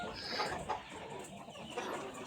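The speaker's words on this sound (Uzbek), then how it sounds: "Puchinskiy tovuqlarni ko'rib turibsizlar" Kuchinskiy Jubilee chickens cluck in a steady, low murmur of a flock, with occasional louder clucks rising above a faint, busy farmyard background and no talking.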